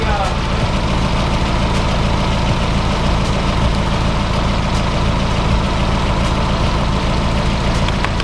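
A Mazda Miata's engine runs with a steady, close, low idle rumble and a constant drone, with no clear change in pitch or volume.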